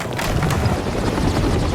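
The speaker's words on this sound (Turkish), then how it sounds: "Ve tehlikeye düşen kendi askerlerini kurtarmak için iki helikopter ortaya çıktı." Two helicopters in an action film scene, a steady loud rotor roar with wind-like rumble filling the whole stretch without a break.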